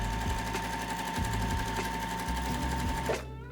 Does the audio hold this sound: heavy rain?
no